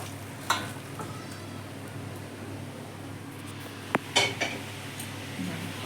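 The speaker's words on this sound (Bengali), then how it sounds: "তো এবার চিকেনটা নামিয়ে নিচ্ছে।" A metal pot of cooked chicken is lifted off the stove with a sharp clank, followed a few seconds later by a cluster of clinks and scraping knocks against a low sizzling kitchen hum.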